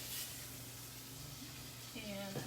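Chicken pieces browning in a hot pan for butter chicken, giving a steady low sizzle throughout with a brief sharper crackle near the end.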